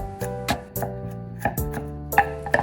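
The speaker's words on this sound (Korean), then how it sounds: "마늘은 곱게 다진 걸 사용하시는 것보다는 이렇게 칼로 다져서 넣는 게 더 나은 것 같아요" Garlic minced with a kitchen knife on a cutting board: about eight sharp, close knocks in an uneven rhythm, with steady music playing underneath.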